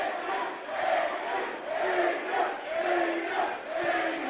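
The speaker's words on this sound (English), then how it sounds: "Standing room only crowd here at the Showboat" A standing-room-only crowd at a deathmatch wrestling event at the Showboat roars and chants in rolling waves, a dense wash of voices filling the hall.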